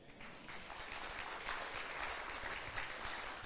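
A church congregation applauds during a Portuguese-language service, a steady, dense wash of clapping that holds evenly for several seconds with no voices over it.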